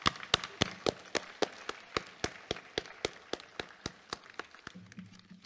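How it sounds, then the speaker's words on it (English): Steady clapping from an audience at a school thespian society awards night, about twenty evenly spaced sharp claps over five seconds, fairly close and alone, fading slightly toward the end. "let's give our seniors an amazing applaud as well"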